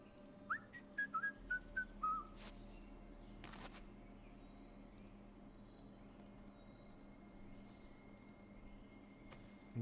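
Two short whistles in the video game TruberBrook sound early and close together over a steady low background hum, followed by faint ambient tones.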